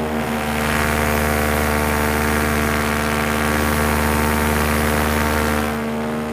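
A small propeller plane's engine drones steadily and loudly in flight over a meteor crater, a constant close hum with no talk.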